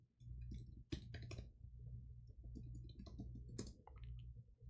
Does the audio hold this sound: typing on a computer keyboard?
yes